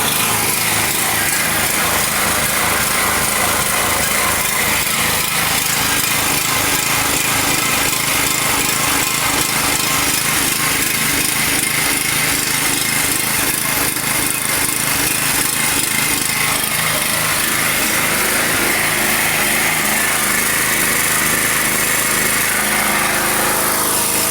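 A methane-fuelled generator runs under load in frost at minus 13, its engine droning loud and steady with a coarse, buzzing mechanical roar throughout, no voices.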